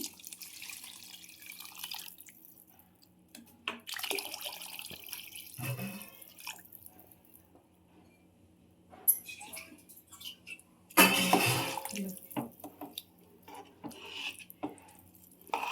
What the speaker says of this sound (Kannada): ಅದಕ್ಕೆ ಇವಾಗ ನಾಲ್ಕು ಗ್ಲಾಸ್ ನೀರು ಹಾಕ್ತೀನಿ